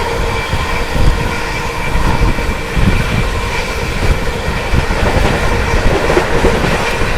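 The 22361 Patna–New Delhi Amrit Bharat Express runs through Chunar Junction at 130 km/h, a loud, close, continuous rumble with rhythmic clickety-clack of wheels over rail joints.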